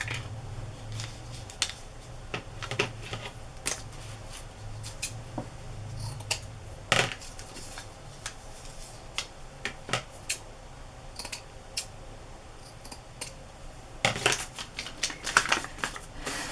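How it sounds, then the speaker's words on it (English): Scissors snip off a crinkled strip of journal paper in a quiet room, giving a run of small, sharp clicks and cuts with pauses in between, close to the microphone and without any talk. "Just cut off that crinkled part."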